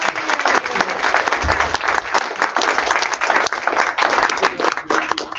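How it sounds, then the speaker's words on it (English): A sustained round of audience applause fills a membership meeting: dense, steady clapping from a room full of people, with a few voices faintly beneath it. "you're already giving her a round of applause"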